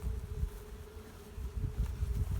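Honey bees fan their wings at the hive entrance, a steady close buzzing drone that swells and dips slightly as the insects work.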